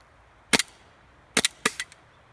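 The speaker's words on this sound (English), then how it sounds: "we are going to first fire the gas blowback airsoft gun" A gas blowback airsoft pistol fired downrange outdoors. Three sharp, close snapping shots: one alone, then a quick pair, each followed by a brief mechanical clack.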